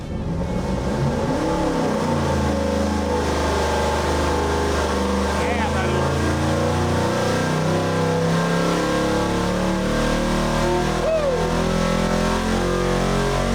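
Twin big-block V8 engines run together on a dynamometer, a loud continuous deep roar that climbs and holds through a long rev, close and steady, with speech mixed in beneath the engine noise.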